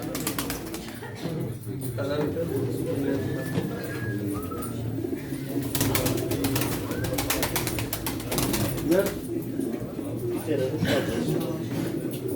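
Pigeons coo softly and repeatedly amid a steady outdoor din at a pigeon auction in Çorum, with people talking nearby throughout.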